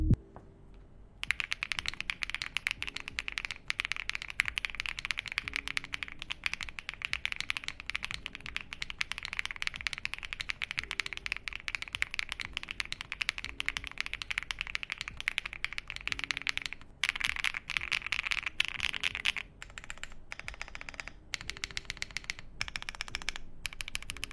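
Fast, continuous typing on a Dark Alien R65 mechanical keyboard fitted with HMX switches, a dense run of mid-clacky keystrokes with a few brief pauses near the end, heard alone.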